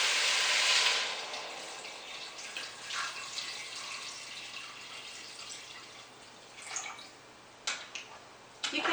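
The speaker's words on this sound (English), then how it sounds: "Now we can put water" Water pours into a pot for carrot and potato soup, a brief loud splash at the start and then a soft trickle with scattered drips and clinks.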